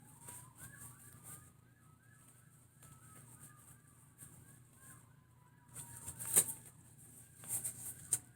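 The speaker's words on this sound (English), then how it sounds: "Oh, lots of sirens." Emergency vehicle sirens wail far off, a faint rising and falling tone sweeping steadily under a quiet background, with a few louder bumps and rustles near the end.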